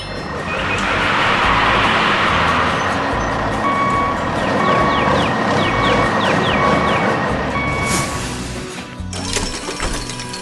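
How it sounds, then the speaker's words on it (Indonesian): A dump truck tips its heavy load onto the ground in a construction scene, a loud sustained rumble and clatter with mechanical beeping, then sharper crashing bursts near the end. "Beban berat itu pun tumpah ke tanah dengan suara gemuruh."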